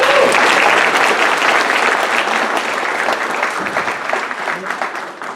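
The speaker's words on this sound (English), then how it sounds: "Give him a round of applause, please." A crowded room at a Republican Party of Arkansas meeting gives Secretary of State Cole Jester a round of applause: dense, steady clapping close and loud throughout, thinning slightly toward the end.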